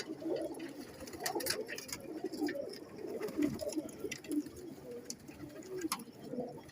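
Pigeons from a breeder's loft coo repeatedly in low throaty rolls, several birds overlapping at moderate distance in a continuous murmuring chorus.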